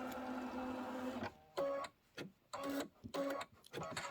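Embroidery machine stitching thick fabric, with a steady mechanical whirr that breaks into several short bursts of rapid needle stitching separated by brief pauses, close and fairly loud.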